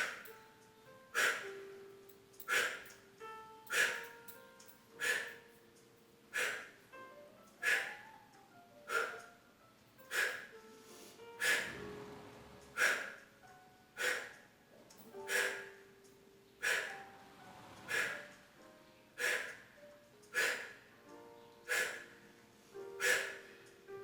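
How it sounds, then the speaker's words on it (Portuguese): Short, forceful breaths pushed out through the mouth or nose during a Pilates exercise, repeating in a steady rhythm about every second and a half, fairly quiet and close, with no talking. "Então uma respiração curta e forte. Pode soltar pela boca ou pelo nariz."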